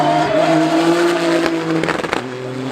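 Peugeot 3008 DKR rally car on the Goodwood Festival of Speed hillclimb, a loud engine note holding steady then revving and shifting, with a brief rough burst near the end.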